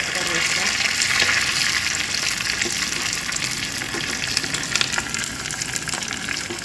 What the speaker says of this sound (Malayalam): കടു പൊട്ടാൻ തുടങ്ങി